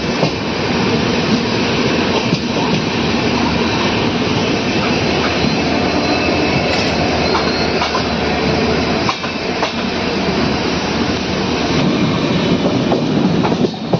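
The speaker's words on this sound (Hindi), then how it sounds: "इस साइड पे कोई ट्रेन तो है शायद।" A passing train rumbles steadily and loudly alongside a moving express train on the Lucknow–Chhapra line, with dense, continuous rail noise and faint clatter throughout.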